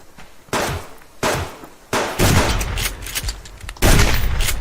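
Loud gunfire in the survival video game Subsistence: several sharp, heavy shot bursts crack out in quick succession, close and booming, with no voices.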